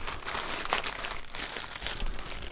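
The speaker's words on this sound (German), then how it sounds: "Dann können wir das nämlich auch hier in die Tüte packen" A plastic shopping bag crinkles and rustles as items are packed into it, a close, continuous crackling with no talk.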